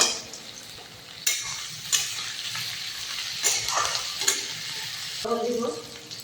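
Potatoes fry together with chicken in oil, giving a steady sizzle broken by repeated scraping stirs and clinks of a utensil against the pan.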